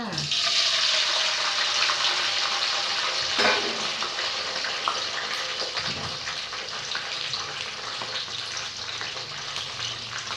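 Loud, steady sizzling and crackling of bamboo worms frying in hot oil in a wok, continuous and close, with faint bumps of a utensil against the pan.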